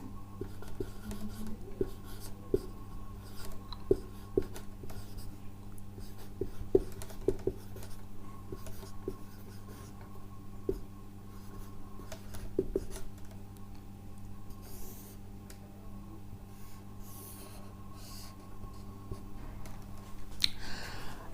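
Pen writing chemistry notes by hand on paper, faint scattered scratches and taps spread through a quiet room with steady background hum.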